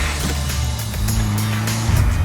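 A Ferrari engine rumbles steadily at close range, with a low droning tone that swells slightly near the end.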